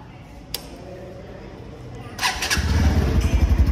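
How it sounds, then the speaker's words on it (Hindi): A Bajaj NS160 160cc motorcycle starts up, then its exhaust settles into a close, throaty, pulsing rumble that grows louder and more insistent toward the end. "अब बात करते हैं NS160 की, उसका आवाज़ सुनते हैं, उसका एग्जॉस्ट नोट सुनते हैं कैसा है।"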